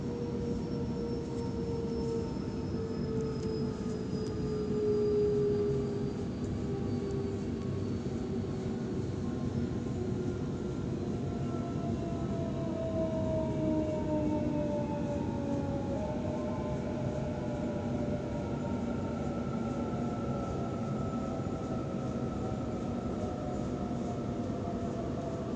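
A Sydney T1 Western Line electric train approaches Marion station platform 2: a steady close rumble of wheels on rail, with motor whines gliding slowly downward as it slows. No one speaks.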